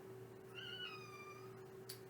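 A cat gives a single drawn-out meow, rising then falling, quiet and somewhat distant over a low steady hum, with no talking.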